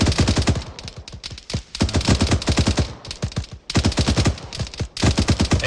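Rapid bursts of automatic gunfire crackle loudly and continuously in a military shooter game set on a U.S. Army Ranger operation, dense volleys overlapping with only brief gaps.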